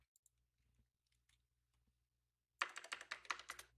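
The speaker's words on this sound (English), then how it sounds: "Sorry for the typing." Rapid keyboard typing on a computer, loud clicks bursting in after near silence and continuing steadily to the end, with no voices.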